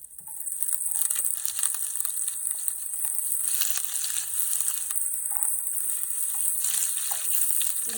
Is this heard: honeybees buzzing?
no